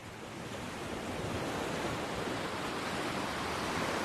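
Ocean waves and wind roar as a dense, steady wash of surf noise, close and loud throughout, with no voices or other sounds over it.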